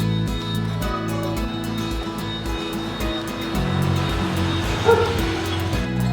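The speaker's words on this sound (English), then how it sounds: "Oh, doggies." Dogs bark on a quiet residential street of houses and driveways in Da Nang, Vietnam, giving a steady run of yaps over a constant background hum, fairly close and loud.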